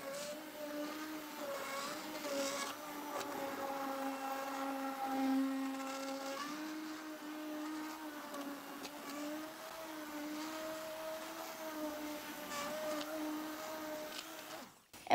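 A blender runs steadily, pureeing a cauliflower and onion soup, its motor whine holding a constant pitch with slight wavering, loud and close, then cutting off at the end.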